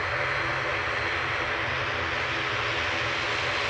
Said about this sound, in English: Heading off to the Isle of Man, this is GLMTF, ATR 72, flight 694. It's proper loud.